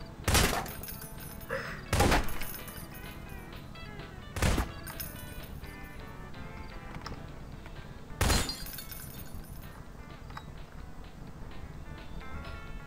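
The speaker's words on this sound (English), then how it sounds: "Shooting everything." Gunfire in a prop hunt video game: four sharp, loud shots spaced a few seconds apart over a low, steady background hum.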